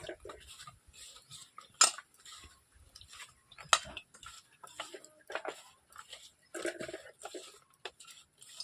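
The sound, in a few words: mixing potatoes with turmeric by hand in bowl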